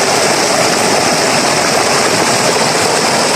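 Heavy rainwater rushing through a village like a stream, a loud, steady broadband roar of flowing water with no pauses.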